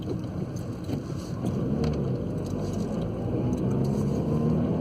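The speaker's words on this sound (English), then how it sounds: "I'm going to go over some sleeping policemen here, and hopefully we'll see how it rides them" A 2008–2013 Ford Fiesta Mk7 rolls over speed bumps, a steady low road and engine rumble with wind noise and faint knocks from the suspension, fairly loud and continuous throughout with no talking.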